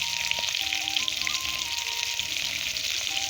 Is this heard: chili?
yes